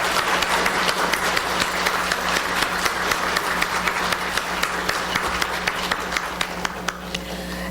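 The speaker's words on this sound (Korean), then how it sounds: "뜨거운 박수 부탁드립니다." Audience applause for a university choir at a cyber university semester orientation, a steady wash of clapping with a low hum underneath, continuing evenly throughout.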